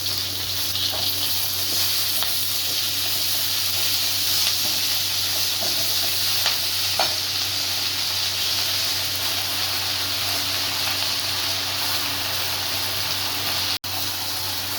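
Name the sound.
sizzling onion and garlic, then greens added to pan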